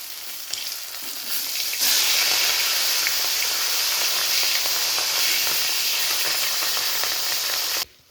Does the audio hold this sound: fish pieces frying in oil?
yes